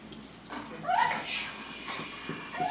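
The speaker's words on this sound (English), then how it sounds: "That dog's way too excited." An over-excited pit bull whimpers and yelps in short, high, nasal bursts at close range, with faint background noise around it.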